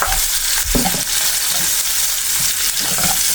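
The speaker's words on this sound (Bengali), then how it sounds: "এই তেলেই ভেজে নিলাম।" Onions frying in oil in a home kitchen in Korea, a loud steady sizzle close by, with a few soft scraping stirs of a spatula through the pan and no talking.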